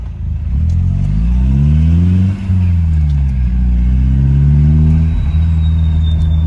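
A BMW E30 with a modified exhaust pulls hard in first gear, its loud engine note climbing in pitch over about two seconds, dipping briefly at a shift or lift, then rising again, with a steady rumbling drone throughout and no talk.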